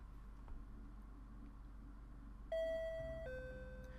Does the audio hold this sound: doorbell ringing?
yes